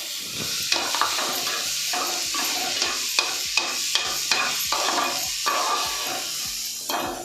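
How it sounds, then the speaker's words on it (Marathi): Prawn mince and chopped spring onion stirred and sautéed in a hot pan, a steady sizzle broken by repeated scraping strokes of a spoon against the pan, close and alone with no talk. "हा ढवळत ढवळत राहायचा आणि मीडियम करायचा गॅस. कोळंबी परतत राहायची."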